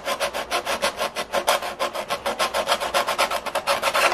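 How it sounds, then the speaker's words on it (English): An emery board sands the bottom of a wooden model piece in a steady run of quick back-and-forth rasping strokes, close and fairly loud, with no talking. "sanding here is just an emery board"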